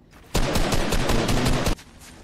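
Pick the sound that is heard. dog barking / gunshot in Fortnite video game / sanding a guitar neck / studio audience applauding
gunshot in Fortnite video game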